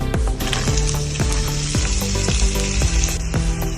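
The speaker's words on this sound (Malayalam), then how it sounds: "സവാള ഒരുവിധം പൊരിഞ്ഞു വന്നിട്ടുണ്ട്" Chopped red onions sizzling and frying in butter and coconut oil in a pan for butter garlic mutton, a steady loud crackling hiss with stirring scrapes throughout.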